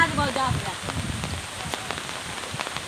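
Rain falls steadily onto a surface outdoors in a soft, dense patter dotted with sharper drop ticks. A faint voice shows briefly near the start.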